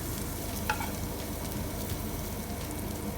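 Chopped garlic sizzling in hot oil in a kadai, a dense steady frying crackle with a brief stir near the start and no voices.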